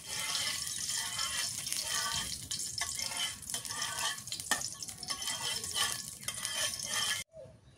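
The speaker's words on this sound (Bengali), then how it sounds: "এখন আমি মাছটা ভাজি করি।" Fish sizzles in hot soybean oil in a pan, a dense, continuous crackling hiss that stays loud and steady before cutting off abruptly near the end, with no talking.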